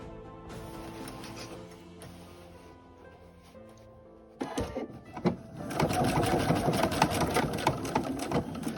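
A sewing machine runs a short seam across a tote bag strap, stitching over the hem line. The motor hums steadily at a moderate pace, then gets louder and denser partway through, a close, continuous mechanical whirr with no talking.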